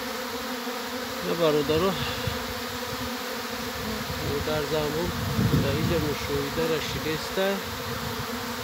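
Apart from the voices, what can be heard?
swarm of bees buzzing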